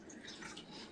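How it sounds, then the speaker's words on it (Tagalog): Cold tap water pours steadily into a container in a rural Korean home, a faint continuous splashing and trickle that runs through the whole stretch without pauses or voices. "Mainit kasi to kaya inaluan ko po siya ng malamig na tubig."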